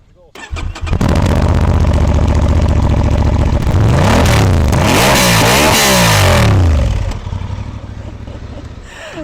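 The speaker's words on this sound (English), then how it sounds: "Let's hear the engine then." A Honda Transalp motorcycle engine starts and revs loudly several times, the pitch rising and falling in sweeping surges before settling back toward idle.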